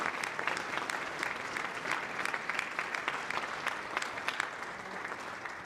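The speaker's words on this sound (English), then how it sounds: "Let's give them all an additional boost of applause." An audience at a state arts awards ceremony in Nebraska gives a prolonged round of applause, steady, dense clapping with sharp individual claps standing out, continuing at even loudness throughout.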